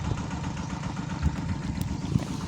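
A 4-inch water pump engine running steadily beside a canal while pumping water into a rice field, a continuous low chugging drone at moderate distance, no voices.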